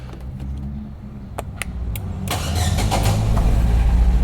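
A 2006 Fiat Palio fitted with a start-stop system clicks a few times, then the starter cranks and the engine catches, settling into a loud, close idle.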